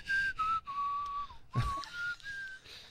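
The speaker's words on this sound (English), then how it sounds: "I think it's creepy the way that you whistle with your mouth open" Person whistling with an open mouth, a thin wavering tune of several sustained, sliding notes broken by short pauses and a breathy intake, close and alone.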